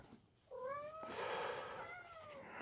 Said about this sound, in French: Ça, en passant, c'est mon chat Marcus qui miaule.